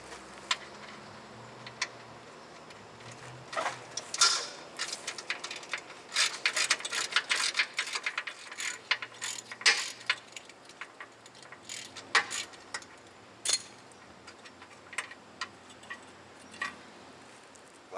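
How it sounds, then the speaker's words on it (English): A ratchet backs out a steering rack hold-down bolt on a 2012 Subaru Outback 2.5L. Rapid bursts of sharp, close clicks come in irregular runs over a quiet garage background. "maybe one more rack hold down bolt"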